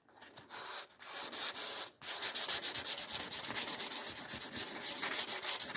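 Light, dry hand sanding of fresh paint in the engine bay of a Ford Escort MK1 under restoration: a close, quiet, rhythmic rasping of rapid back-and-forth strokes after a couple of brief pauses, with no voices.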